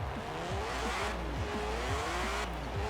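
Turbocharged BMW in Forza Horizon 4 floored from a standstill in first gear, engine revving up in repeated rising sweeps as it bounces off the limiter, loud and close with tire noise.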